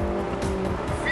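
A car engine hums steadily while driving, a low continuous rumble with some road noise and a brief higher whine near the end.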